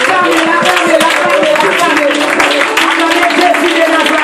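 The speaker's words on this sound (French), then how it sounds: "Donnez une acclamation à notre Dieu." A church congregation clapping and cheering in acclamation of God, loud and continuous, with voices and hand claps blending into a dense, sustained roar throughout.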